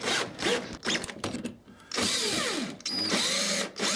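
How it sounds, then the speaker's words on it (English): Power drill driving screws into scrap wood while building a nesting box, several short whirring bursts that rise and fall in pitch with brief pauses between, close and alone. "Please pre-drill if you're screwing it together like me."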